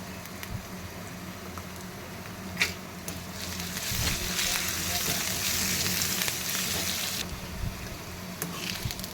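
Tempering sizzles and fries in a hot pan with asafoetida powder for puli keerai kadayal, a steady crackling hiss that swells louder in the middle, with a few clinks and stirring sounds.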